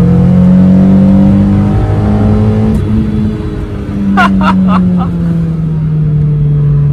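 A lightweight Mazda 323 on a race track revs hard, its engine note climbing and dropping through gear changes, loud and close with brief sharp clicks midway, while a voice talks over it.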